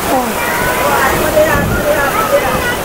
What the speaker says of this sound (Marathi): अरे अरे हे पाणी बघा.